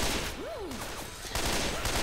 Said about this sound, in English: This gun's fairly effective, it's a burst gun